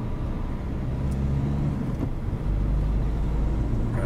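A Dacia Duster 4WD with electric power steering drives along, giving a steady, loud low rumble of engine and road noise inside the cabin that holds constant throughout.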